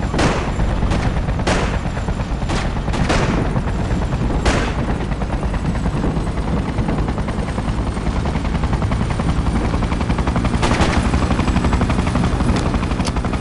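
Soldiers' gunfire in the Freedom Fighters video game, loud scattered shots and bursts cracking over a constant dense roar of combat and engine noise.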